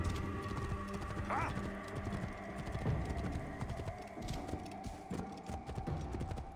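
A horse's hooves clip-clop at a steady walking pace over rocky ground in Assassin's Creed Origins, moderately close under a dense game soundscape with a brief higher whinny-like sound.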